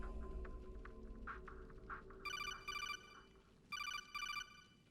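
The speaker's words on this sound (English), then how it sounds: "Get comfy before I answer my phone." A telephone rings in Metal Gear Solid 4, two bright double bursts of electronic trilling over a low droning game ambience, with faint clicks before the first ring.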